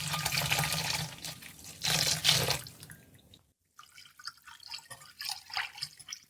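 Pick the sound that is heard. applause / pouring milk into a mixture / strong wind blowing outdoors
pouring milk into a mixture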